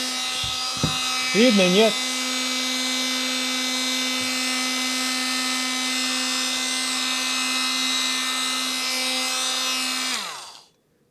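An Elitech MIA 18SL cordless oscillating multi-tool runs steadily at a high buzzing whine for about ten seconds before winding down, with a brief spoken question near the start.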